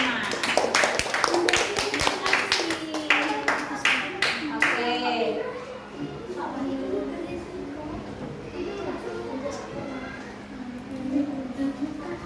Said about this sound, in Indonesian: beri tepuk tangan buat kelompok 5